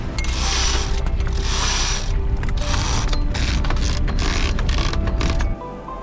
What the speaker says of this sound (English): I will hoist the mainsail here to keep the stability of Tessie when we're at least going for motor.